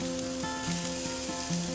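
Chicken wings sizzle on a grill, a dense, continuous frying hiss heard up close with no voices, and faint steady tonal hum lines beneath it.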